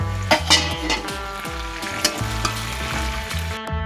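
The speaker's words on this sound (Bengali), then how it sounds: "এবার মাংস এর মধ্যেই আবার এই যে আলুটা ভেজে রেখে দিয়েছিলাম, সেই আলুটা দিয়ে দিচ্ছি। তারপরে একটু নাড়াচাড়া করে নেব।" Fried potatoes tipped into goat meat cooking in a pan and stirred, a loud steady sizzle broken by repeated scraping strokes of a spoon against the pan.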